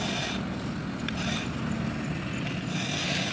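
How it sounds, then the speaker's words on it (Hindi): A tractor pulling a stuck trolley strains to climb a slope, its engine a steady, loud rumbling drone with broad noise throughout. "यानी ट्रैक्टर आगे चढ़ने की कोशिश कर रहा है, लेकिन चढ़ नहीं पा रहा।"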